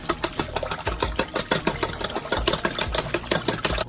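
An electric mixer beater whisks eggs, water and oil for gluten-free pumpkin spice muffin batter, a steady close motor whir with rapid rhythmic pulsing throughout, alone without voices.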